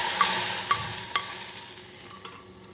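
Hot curry-leaf tempering poured into South Indian kalyana rasam, a few sharp sizzling bursts and clinks at close range that quickly fade to a low simmer.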